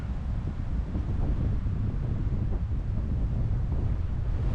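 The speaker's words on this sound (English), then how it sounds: "The wind sounds nice in its leaves right now." Wind gusts through the leaves of a lone tree on an open New Mexico prairie, a steady, loud rushing with heavy low buffeting against the microphone and no voices.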